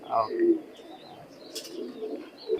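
Pigeons of an imported bloodline high-flying breed coo softly at close range, a few low murmuring calls spread through the moment with faint chirps above.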